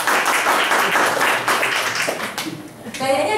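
An audience claps in a steady patter of many hands, heard beneath someone speaking Indonesian, before the applause fades and her voice carries on alone.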